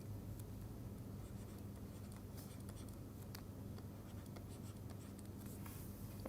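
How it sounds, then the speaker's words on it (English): Faint, steady scratching of a pen or chalk writing on a board or paper during a math lecture, with light strokes and taps over a constant low hum and no talking. "I'm going to write it here,"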